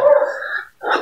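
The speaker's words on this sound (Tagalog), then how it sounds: "May kasama pa silang aso." A single dog in a survival video game gives a short whining bark followed by a brief second yelp, close and fairly loud.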